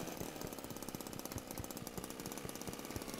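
An old car engine from the driving game Jalopy runs with a fast, rattling, lawnmower-like chug, a steady rapid pulse of knocks that stays close and fairly quiet with no voices over it.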